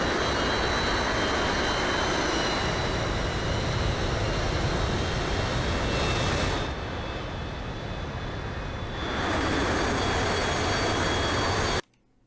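Jet engines of Brazilian Air Force Gripen fighters in a video game roar as a loud, steady wash for about twelve seconds, briefly easing midway before swelling again and cutting off abruptly.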